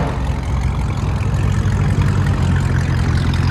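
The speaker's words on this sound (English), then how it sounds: "Camaro SS with a BORLA ATAK system. Complete system." Chevy Camaro SS with a 6.2L V8 and a complete Borla ATAK exhaust system, giving a loud, steady, deep engine drone that holds constant for several seconds with no talking.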